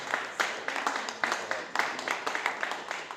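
Crowd applause at an awards ceremony, a dense, steady patter of many hands clapping at moderate distance with a few sharper individual claps standing out, continuing without a break.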